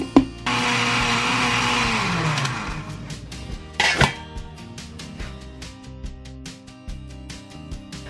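A kitchen blender grinds garlic with kimchi ingredients, a loud whirring roar that drops in pitch as the blend thickens, stops, then gives a brief second pulse among soft clatter.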